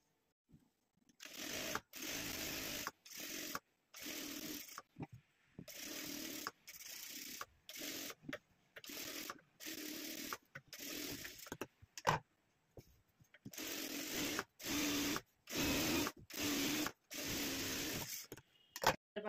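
A sewing machine stitches a blouse in a run of short, rapid bursts separated by pauses, with a close mechanical clatter throughout.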